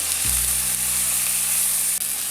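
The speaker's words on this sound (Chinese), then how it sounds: "先下蒜头跟姜，再下入洋葱，下入少量芹菜梗。 炒香之后放入适量的开水" Garlic, ginger, onion and celery stems hit a hot pan and begin stir-frying, a sudden loud sizzle that holds steady with a low hum underneath for a couple of seconds.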